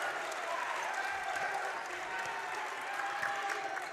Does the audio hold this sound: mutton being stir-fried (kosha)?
no